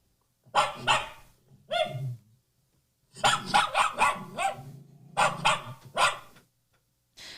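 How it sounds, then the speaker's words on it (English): A dog request-barks repeatedly and insistently, loud and close, in short clusters of sharp barks with brief pauses between them. "I think we have maybe one more example of the request barking."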